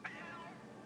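A pet cat gives a single short meow near the start, over a steady background of video game music, with no talk.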